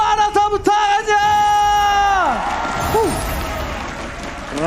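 A large crowd in the MPL Arena at an MPL Indonesia esports match (RRQ vs Aura Fire) applauds and cheers loudly throughout, with sustained roaring and whoops, while a commentator's voice rings over the start.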